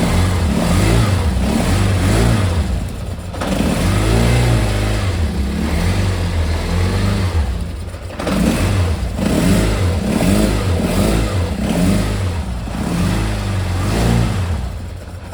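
A restored Kawasaki Zephyr 750 motorcycle engine runs close by, rumbling steadily with repeated throttle blips that rise and fall in rhythmic revving, with no talk.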